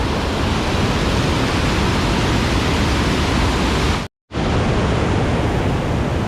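Tat Sae waterfall near Xieng Ngeun, Luang Prabang, Laos, roars as a loud, unbroken wash of falling water, close and constant, with one brief dropout near the end.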